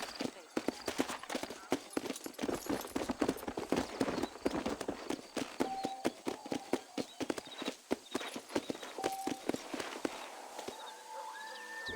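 Hooves of a horse in the Red Dead Redemption video game, a fast, steady clip-clop from start to finish with occasional faint tonal game sounds and a voice speaking over it.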